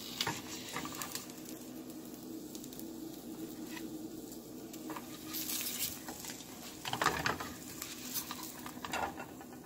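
Eggs fry in a pan, giving a faint, steady sizzle with occasional light clicks and scrapes of a utensil, with no talking.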